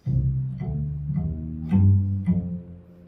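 A bass plays a sustained low G a whole step above F, with a few soft plucked notes before it, in a middle school bass lesson; no talking, the low tone ringing warm and steady.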